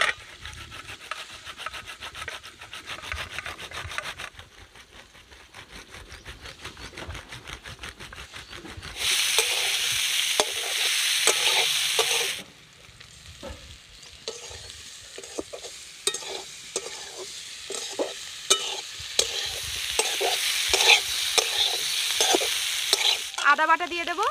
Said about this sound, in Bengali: দিয়ে ভালো করে আলুটা আগে একটু ভেজে নেব।